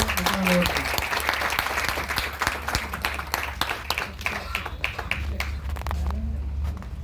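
An audience at an achievement celebration claps in a sustained, dense patter of applause that thins slightly toward the end, with voices talking and cheering over it.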